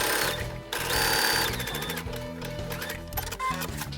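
A sewing machine runs a zigzag stitch to attach ribbon onto fabric, with a steady fast mechanical chatter, close and loud, briefly slowing and restarting.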